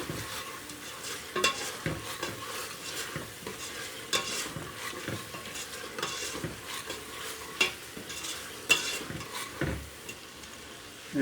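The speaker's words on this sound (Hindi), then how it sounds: "दो हरी मिर्च भी डालेंगे।" Two green chilies fry in hot oil for a Punjabi rajma masala, a steady close sizzle broken by repeated scrapes and knocks of a spoon stirring the pan, with no voices.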